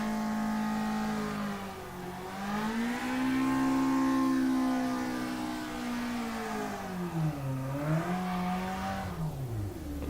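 A race car engine in the rFactor2 sim accelerates and revs, its pitch climbing, dipping at gear changes and rising again, loud and steady with no talking throughout.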